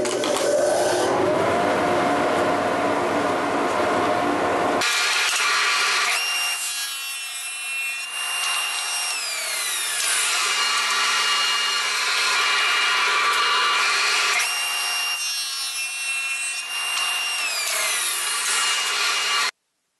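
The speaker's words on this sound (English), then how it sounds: "I've set up the table saw and lined up all of these cuts." Table saw cutting small wood pieces: a loud, continuous whine with blade noise and repeated cuts through the wood, running steadily for the whole stretch before stopping abruptly at the end.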